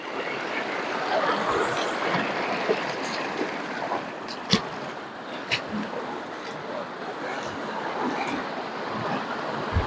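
Rushing water at Nandyal falls, a broad steady roar of heavy flow filling the scene, with faint voices and a few sharp knocks now and then.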